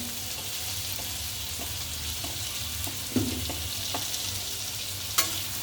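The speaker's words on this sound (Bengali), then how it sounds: "একটু নাড়া দিয়ে জল দেব" Spiced food frying in a pan for a Bengali fish curry being stirred, a steady sizzle with scattered spoon scrapes and taps, close and without talking.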